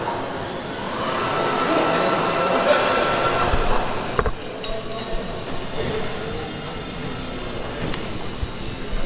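A rivet squeezer works large rivets into a rib during the restoration of Lancaster NX611, giving a steady mechanical hiss and hum with a sharp clunk midway. Voices are heard nearby.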